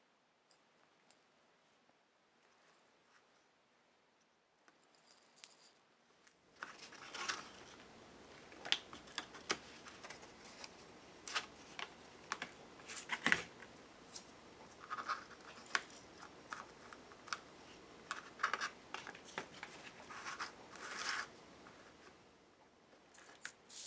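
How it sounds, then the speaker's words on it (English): An X-Acto knife cuts paper around the outline of a traced microscope slide, giving faint, close scratchy scraping and small ticks in irregular bursts after a quiet opening, with no talking. "I traced the microscope slide. I'm going to cut that out with my X-Acto"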